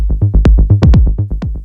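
A Roland 808 kick drum plays a rapid sequence of deep, pitch-dropping booms with bright click attacks, loud and close with no talking.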